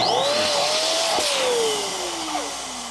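An electric balloon inflator motor runs steadily and loudly with a whining tone that slides slowly downward in pitch, continuous throughout with no talking.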